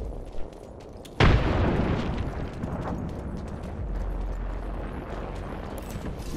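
A frag grenade goes off in the battle royale shooter Apex Legends: one sudden loud boom that leaves a long rumbling tail, with gunfire and game effects continuing underneath.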